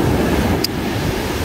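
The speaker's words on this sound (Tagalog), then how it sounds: "natural sounds ng alon" Ocean waves wash onto a beach in a steady, broadband roar with wind buffeting the microphone, nearby and continuous with no voices.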